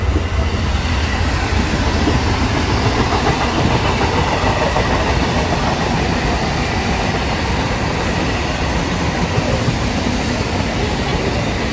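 A Kolkata to Digha special passenger train pulls out of Kolkata railway station, giving a steady, loud rumble of wheels and carriage noise with faint rhythmic clatter throughout, heard from inside the train with no talking.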